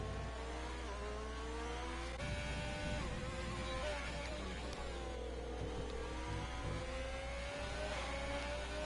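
A Formula One race car engine in an F1 video game at the Montreal circuit screams at high revs, its pitch rising and falling through gear changes and braking into a chicane, steady and close with no voices.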